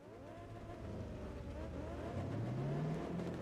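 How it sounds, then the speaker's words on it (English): In Test Drive Unlimited 2 a car does a burnout at night, its engine revving up into a rising, sustained roar. The sound is close and builds in pitch toward the end. "Burnouts at night."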